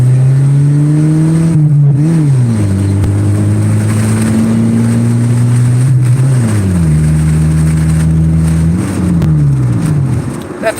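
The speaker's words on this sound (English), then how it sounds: "That's called over-revving." A car engine is held at high revs, over-revving, loud and close, droning steadily with a few dips and climbs in pitch, nothing else heard over it.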